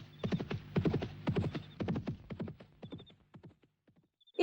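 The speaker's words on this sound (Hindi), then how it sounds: "ये चांदनी चौक में घोड़ा कहाँ से आ गया?" Horse hooves clip-clop in a brisk, even rhythm on a street in Chandni Chowk, close and clear, slowing and fading toward the end before a sudden loud sound cuts in.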